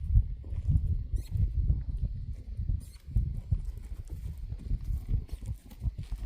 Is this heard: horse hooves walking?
yes